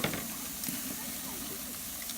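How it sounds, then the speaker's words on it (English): Pork ribs sear over a campfire with a steady, soft hiss and sizzle, a quiet continuous crackle close by. "I'm looking for it to sear this meat and to sear all that good flavor in the meat"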